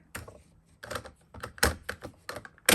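A paper trimmer fitted with a scallop blade cuts through paper as a series of sharp, close clicks and crunchy snips in uneven bursts, with no talking.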